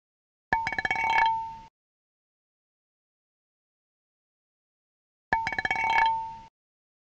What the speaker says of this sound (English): the sound of a metal pipe being dragged across some pavement